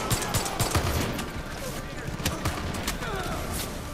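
Rapid firearm gunfire from Far Cry 5 cracks in a dense, fast string of shots that keeps going for several seconds, loud and close, with speech mixed in.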